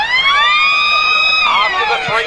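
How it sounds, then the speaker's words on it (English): The three-quarter time siren sounds at an Australian football match between Castlemaine and Maryborough in Bendigo, a loud, sustained wailing horn tone that holds steady and then drops and wavers at the end. "After the three-quarter time siren"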